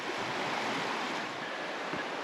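A creek rushing beneath a rickety old bridge, a steady close wash of flowing water with no voices.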